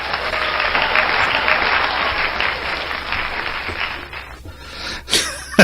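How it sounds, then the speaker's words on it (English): Sustained applause for a show host, steady and full for several seconds before tapering off, followed by a few isolated noises. "We have to give Jon the clap as well, I suppose."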